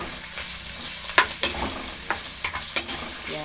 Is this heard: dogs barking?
no